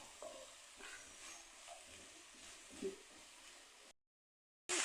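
Vegetables and chicken sautéing in a pan, with a quiet steady sizzle, light stirring scrapes and a few utensil taps, then a sudden cut to silence and a brief louder burst.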